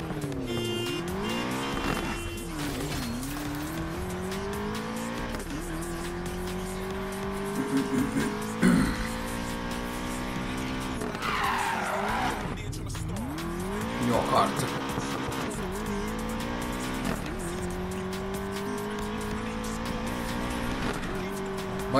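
Racing car in Need for Speed Payback, its engine revving through rising and falling gear sweeps with bursts of tire squeal. The loud, continuous roar runs the whole time, and someone talks over it.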